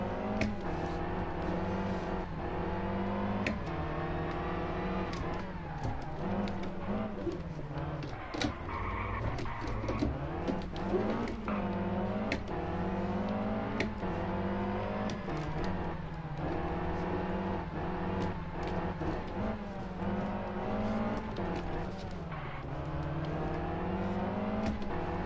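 A rally car engine in Sébastien Loeb Rally Evo revs continuously on a Monte Carlo stage, rising and falling in pitch through gear changes and throttle bursts. It stays loud and close for the whole stretch.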